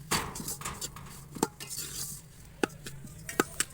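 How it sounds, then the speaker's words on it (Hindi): Semolina being stirred and roasted in a pan with a metal spoon, soft scraping under a faint sizzle, punctuated by several sharp clinks of spoon on metal. "इसके अंदर चम्मच हिलाते रहना है"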